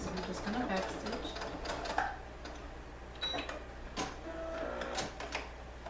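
Sewing machine back stitching at the end of a leggings seam, quick rapid ticking bursts that start and stop, close and fairly quiet, with a person talking at times.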